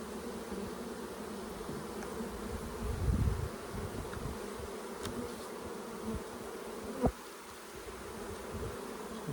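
Honey bees buzz steadily around an indoor paper boost hive, a dense continuous drone close at hand with a brief swell of low rumbling midway and a sharp knock near the end.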